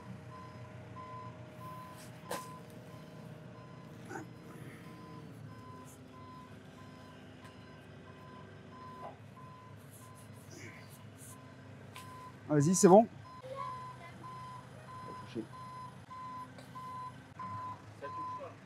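A Manitou telehandler backs up on a giant-pumpkin harvest, its steady reversing beeper pulsing faintly in the distance through most of the stretch, with people talking nearby and a louder clatter partway through.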